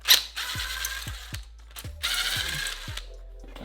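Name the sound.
ratchet removing frame bolts on a motorcycle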